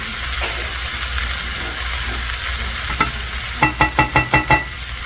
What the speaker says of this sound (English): And those are going to saute down for, 4 or 5 minutes.